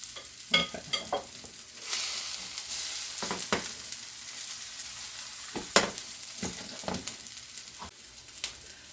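Zucchini and corn fritters sizzle steadily in a frying pan, with scattered sharp pops and crackles from corn kernels bursting in the hot oil, close and fairly quiet, no voices.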